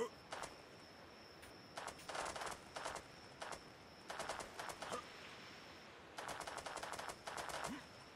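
Gunfire in the video game ARK: Survival Evolved: rapid bursts of automatic fire in several volleys separated by short pauses, with single shots between, fairly distant and crisp.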